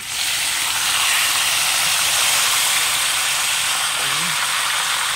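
Onion and garlic sautéing in very hot oil for a calamansi-marinated beef steak give off a loud, steady, broadband sizzle that runs unbroken throughout, with a faint voice briefly surfacing near the end.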